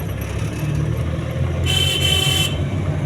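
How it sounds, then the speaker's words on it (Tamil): A Maruti Omni van horn blares in one sustained honk lasting about a second, over steady low traffic and engine rumble. "வண்டி ஹாரன் சவுண்டு இதுதான்"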